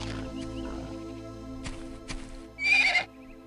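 A horse creature in the video game Black and White gives a short, loud, high whinny near the end, after a few soft hoof-like clops over a quiet game background.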